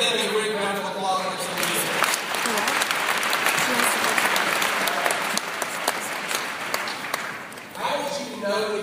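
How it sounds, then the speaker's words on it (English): A university new-student-day audience applauds loudly and steadily, the clapping swelling early and holding for several seconds before tapering near the end, with a voice faintly audible beneath it at the start. "Give them a great round of applause."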